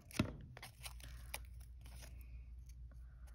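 Scissors snipping paper snowflakes: a sharp crisp cut at the start, then a few softer snips and light paper rustles over a low steady hum, close and quiet.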